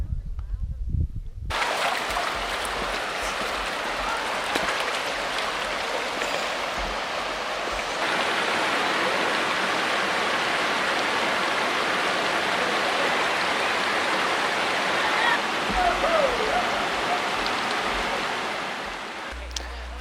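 Zapata Falls waterfall near Sand Dunes National Park pours in a steady broadband roar of rushing water, close and continuous for the whole stretch after a brief quieter opening.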